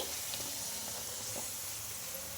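Puri made with green peas deep-fries in hot oil, a steady, even hiss and sizzle that runs throughout at moderate volume, with faint crackles and no talking.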